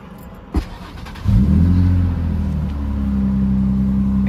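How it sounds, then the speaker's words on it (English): An Infiniti G35 engine cranks and catches after a brief click, then settles into a steady, close idle with a low, even hum, while coolant and power steering tanks are being relocated. "you're going to want to turn on the car"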